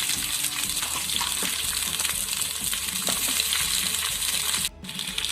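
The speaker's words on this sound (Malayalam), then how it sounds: "വെണ്ടയ്ക്കയും ഉള്ളിയും പച്ചമുളകും കൂടി അതിനകത്തേക്ക് ആഡ് ചെയ്ത് കൊടുക്കാം" Okra, onion and green chilli frying in hot coconut oil for a ladies finger dry fry, giving a steady loud sizzle with crackling bubbles and some stirring, continuous until a brief dip near the end.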